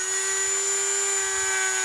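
A Dremel rotary tool drills a finger hole in a shakuhachi, a steady high-pitched whine held at constant speed, close and continuous, with no talk.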